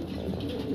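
A large pair of pigeons coos in a low, steady, continuous murmur close by, with no talking over it.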